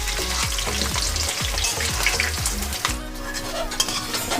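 Ten whole new potatoes fry in hot oil with a steady, close sizzle, while a utensil scrapes and stirs them against the pan in repeated strokes.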